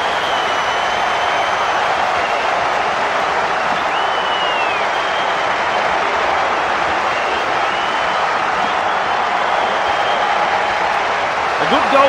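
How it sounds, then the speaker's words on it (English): A rugby stadium crowd at a Tonga versus Samoa World Cup match applauds and roars after a try, a dense, steady wash of clapping and cheering that holds for the whole stretch, with a commentator talking over it. "The crowd love that one and they're on their feet applauding that play."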